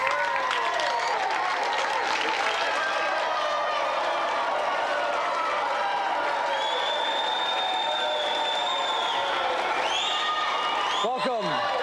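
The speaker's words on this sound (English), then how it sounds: "give him a round of applause" Studio audience on a game show breaking into sustained applause and cheering, a dense continuous roar of clapping with whistles and a voice carrying over it, ending with a short sharp sweep near the close.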